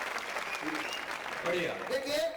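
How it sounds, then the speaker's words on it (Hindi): An audience at a Hindi poetry and song recital claps in a steady wash of applause while someone speaks over it. "जरा एक बार जोरदार तालियां बजा के इस बिखरे हुए माहौल को ठीक करिए।"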